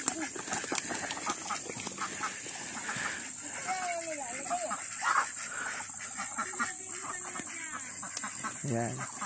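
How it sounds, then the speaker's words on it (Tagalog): Ducks quacking and poultry calls scattered throughout, mixed with people talking and steady background hiss outdoors. "May alaga ng pato."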